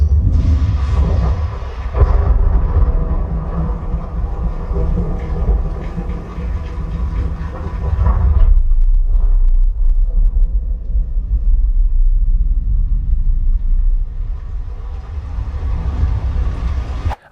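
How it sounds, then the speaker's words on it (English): Thunder and lightning from the Dolby Atmos Amaze demo play through a Funk Audio 24.0E 24-inch sealed subwoofer as a loud, deep, continuous rumble that swells and eases in waves, with a brief dip midway before building again. "it does have a really low rumbly effect when there's some lightning and thunder going on"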